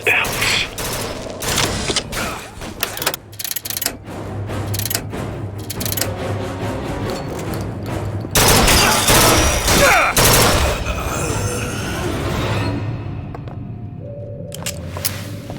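Machine gun fire in the video game BioShock Infinite: Burial at Sea, with rapid, loud bursts of shots and volleys that crowd together, then continue as heavier sustained firing before easing off.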